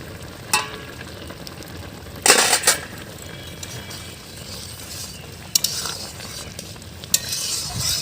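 Spinach fries in a pan with a constant soft sizzle, broken by several sharp metal spoon scrapes and clinks as the greens are stirred, close with no talk.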